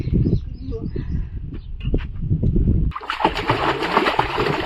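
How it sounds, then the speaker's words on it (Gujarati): Water splashing while someone bathes outdoors at a village farm, close, irregular splashes and pours, loud and continuous in the second half, with voices talking over it. "ચાહત બેન પડી ગયા છે નાવા માટે પાણી કેવું ઠંડુ છે"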